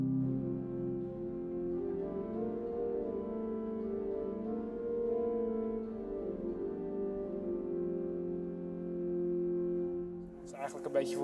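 Pipe organ at Saint-Eustache, Paris, sounds a low pedal chord built from third and fifth aliquot stops, a deep sustained droning cluster held steadily for about ten seconds before breaking off.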